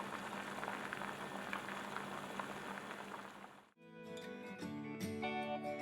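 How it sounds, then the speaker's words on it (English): Raw mango rasam simmers under a lid in a pot, a soft, even bubbling hiss that cuts off suddenly near the end and gives way to bright, tonal music. "I am putting a lid and we will let the rasam cook for 10 minutes"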